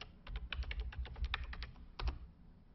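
Fingers typing on a computer keyboard, a quick run of distinct key clicks with a short pause and then a few final taps, close and alone.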